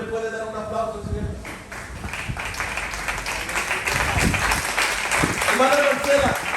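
A church congregation bursts into applause, a dense, sustained clapping that swells and carries on steadily throughout, with voices mixed into the crowd noise.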